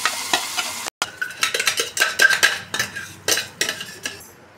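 Hot tempering of cumin and dried red chillies is poured into gongura chutney and stirred, with a spoon clinking and scraping against the pan in quick irregular strokes over a soft sizzle.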